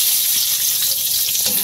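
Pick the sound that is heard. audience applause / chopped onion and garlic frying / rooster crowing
chopped onion and garlic frying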